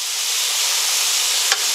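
Chicken breast frying in a pan on maximum heat gives a steady, close, even sizzle throughout, with one brief click near the end.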